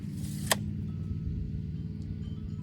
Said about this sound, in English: I hear my neighbor in his race car again